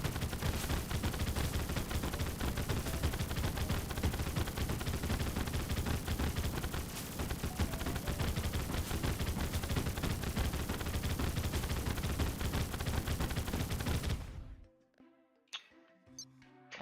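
A minigun in Terraria Calamity fires in a dense, unbroken stream of rapid gunfire for about fourteen seconds, then cuts off abruptly, leaving only a few faint ticks.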